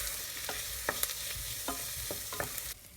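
Ingredients for a Jaffna fish curry sautéing in a pan, with a steady broadband sizzle and several sharp stirring clicks and scrapes spaced through it, then the frying fades quieter near the end; no voices.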